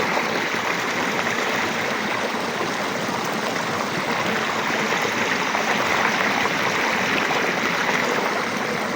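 Clear, cold stream water flows steadily and continuously, a dense, even rushing with no voices and no pauses.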